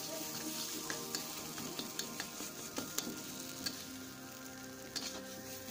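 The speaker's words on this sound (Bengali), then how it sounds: "এটা একদম শুকনো শুকনো হবে, তাই ভালো করে নাড়তে হবে, যে জলটা আছে একদম শুকিয়ে যাবে।" Barbati bata, a yardlong bean paste, is stirred in a pan as its water dries off, giving a soft continuous sizzle with a regular series of light spatula taps and clicks against the pan.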